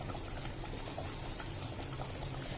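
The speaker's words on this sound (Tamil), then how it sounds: "பாருங்க, எண்ணெய் நல்லா பிரிஞ்சு வந்துருச்சு, குழம்பு கொதிச்சிருச்சு." A yam and tamarind curry boils in a pot with a steady, dense bubbling and simmering hiss that continues without a break, close by and moderately loud.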